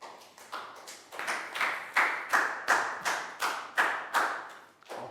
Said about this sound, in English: Big round of applause for Chu, guys.